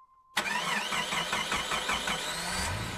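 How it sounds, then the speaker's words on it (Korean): A car engine cranks and catches after a brief quiet moment, then settles into a steady, close, fairly loud idle with no voices over it. "차에 시동을 걸었습니다"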